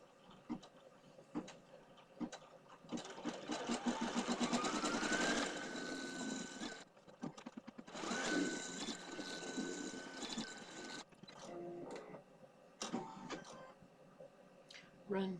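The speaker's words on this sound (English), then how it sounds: "Thread your machine with the green and run your placement stitch number 19 for the leprechaun suit." Embroidery sewing machine running a placement stitch in green thread for a leprechaun suit design, with rapid clattering stitching in two long stretches, separated and followed by quieter ticks.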